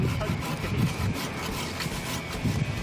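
An arborist's hand saw cuts through a thick tree branch in steady, rasping back-and-forth strokes. The continuous rhythm sounds close and fairly loud, with no talking.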